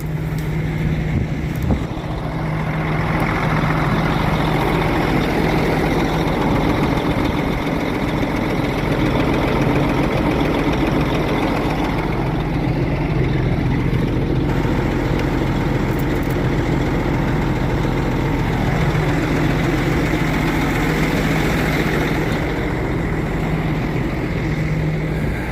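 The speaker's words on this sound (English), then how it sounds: "If the batteries are up on this truck, it'll start pretty cold, but it has to crank." A truck's engine idles steadily and close up for the whole stretch, a continuous low rumbling drone with a faint knocking texture and no talk over it.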